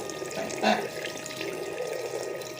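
Water pours steadily at a house, a continuous splashing, running stream with a brief louder gush early on, heard fairly close with no voices.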